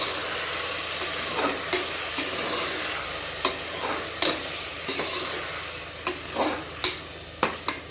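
Eight cut tomatoes sizzle steadily as they sauté in a pan for mutton kurma. The frying hiss is continuous and close, and a spoon scrapes and knocks against the pan in sharp, irregular strokes while the food is stirred. Nobody talks.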